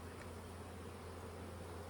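Honey bees hum around an open hive during queen-rearing preparation, a faint, even, continuous drone with no voices.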